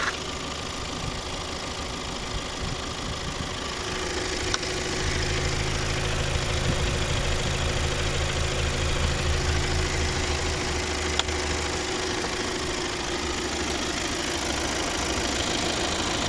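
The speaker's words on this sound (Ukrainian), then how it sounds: "Ну, Ось робота двигуна." A Skoda Kodiaq 2.0 TDI diesel with automatic transmission and 4x4 idles steadily with a faint diesel clatter, recorded close under the open hood.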